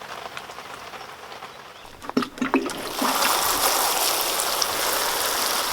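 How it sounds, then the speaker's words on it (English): Water pours onto freshly planted plants in soil, a few splashy drips and handling noises first, then a steady close gentle spray-like trickle that continues alone. "Just a light watering."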